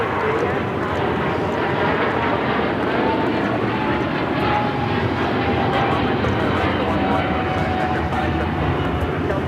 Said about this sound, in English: Just had a United Dreamliner touchdown here coming in from Newark.